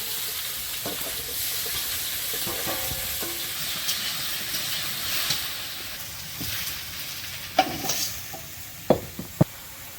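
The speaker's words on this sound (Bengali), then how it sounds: "হলুদ মাখিয়ে দিলাম আদা রসুন বাটা অল্প দিয়ে নেড়ে চেড়ে" Fish coated with turmeric and ginger-garlic paste fries in a pan while being stirred: a steady, close sizzling hiss with scattered knocks and scrapes of the spoon, growing sharper near the end.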